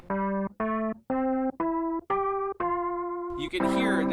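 Tonal notes played through an Eventide Rotary speaker effect with an LFO modulating the rotor speed, giving a sequence of sustained organ-like tones that gradually lengthen, then a final swirling chord with a wavering, shimmering texture.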